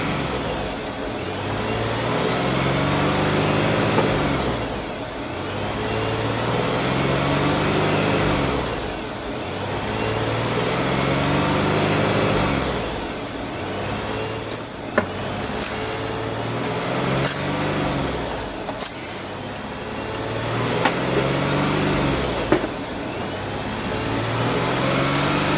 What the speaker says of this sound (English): It was idling, it didn't idle, but now it's idling high.